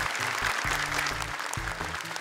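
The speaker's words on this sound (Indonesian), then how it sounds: "Tepuk tangan buat Azkia." An audience claps for a young contestant on an Indonesian hafiz competition show, a short burst of applause with music or a voice tones running underneath.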